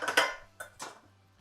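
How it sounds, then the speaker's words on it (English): Cooked macaroni tipped from a colander into a metal pot for macaroni cheese, giving a few close clattering, scraping knocks of pasta and metal in quick bursts, then quieting. "I'm going to pour the macaroni in"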